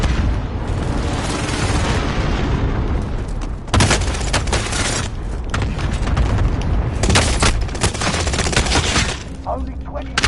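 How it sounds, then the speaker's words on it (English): Gunfire in Call of Duty Warzone around a ship, sustained rapid bursts of automatic fire with heavier booms, loud and dense throughout, with game voices briefly audible near the end. "Someone shooting at me at the ship."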